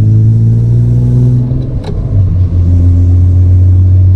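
BMW E36 with a new muffler driving along, its engine a steady low drone that dips briefly mid-clip with a faint thump, then settles back into an even, close rumble throughout.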